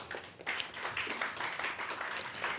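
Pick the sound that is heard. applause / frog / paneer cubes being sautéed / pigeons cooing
applause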